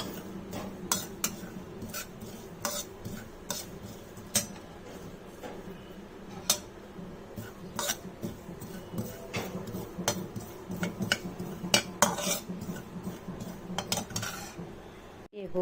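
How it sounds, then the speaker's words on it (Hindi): Poppy seeds being roasted in a pan are stirred with a spoon, producing repeated light scrapes and sharp metallic clinks against the pan over a soft continuous hiss, close and with no talking. "खसखस को थोड़ा भून लेंगे अच्छे से।"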